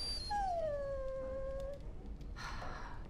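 A dog in the video game Dragon Age: Origins lets out a long, high, falling whimper close by, followed by a short quieter whine, with faint game ambience underneath.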